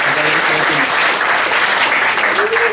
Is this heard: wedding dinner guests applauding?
yes